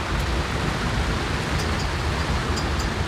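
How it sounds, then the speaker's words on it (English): A squall sends horizontal rain across a sailing boat off the Caribbean coast, a dense, continuous hiss of drops drumming on the deck with occasional sharper splatters and no voices. "It's bit of a rain shower going on."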